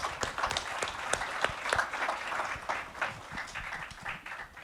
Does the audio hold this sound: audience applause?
yes